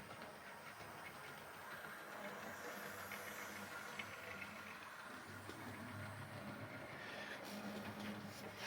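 A Hornby model train set runs around its track, a faint, steady rolling rumble with light clicks over the rails, continuous and fairly distant with no voices.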